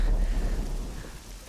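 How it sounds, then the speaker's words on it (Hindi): Steady rain pours with low thunder rumbling beneath it, a dense, loud wash of falling water that stays unbroken throughout, with no voices present. "बारिश शुरू हो वहाँ गई।"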